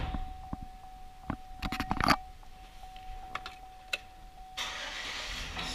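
A Chevrolet Silverado pickup truck's engine cranks with a few quick bursts, then catches and settles into a steady idle, heard close and without talk.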